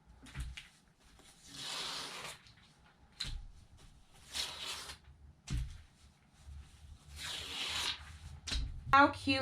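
Siser Stripflock heat transfer vinyl is peeled off a t-shirt in several slow ripping strokes with pauses between them, close and quiet, and a voice talks faintly in places.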